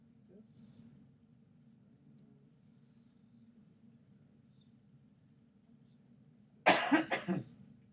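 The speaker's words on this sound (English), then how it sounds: "I can cough now." A single sharp cough bursts out near the end in a quiet studio, preceded by a low steady hum and a brief faint click early on.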